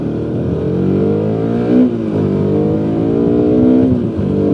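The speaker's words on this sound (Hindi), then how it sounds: "गाइस मुझे इस बाइक की जो रिजन 6 है इसकी आवाज़ बहुत ज़्यादा पसंद है" A motorcycle being ridden on the Anantnag to Kokernag road in Kashmir gives a loud, close, steady engine drone with a rich harmonic tone and gentle rises in revs, with no talking.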